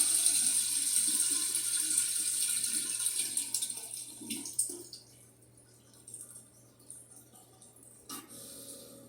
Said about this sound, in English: we'll go ahead and flush the toilet